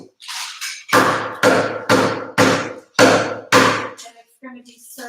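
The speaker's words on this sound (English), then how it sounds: "I'm going to pound this butter" Seven heavy, evenly spaced thuds from frozen butter being pounded flat for croissant dough, close and loud, each blow ringing briefly, followed by softer handling noises.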